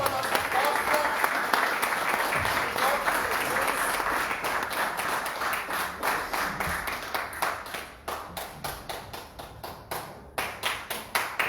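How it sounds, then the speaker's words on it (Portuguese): A church congregation applauds during a worship service, first a dense wash of clapping, then steady rhythmic clapping in spaced bursts, with voices mixed in. "Você pode aplaudir o Senhor"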